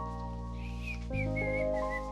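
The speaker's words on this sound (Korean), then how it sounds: "휘파람 안 돼!" A person whistles a short, wavering melody close by, a steady low hum running underneath, brief and fairly quiet.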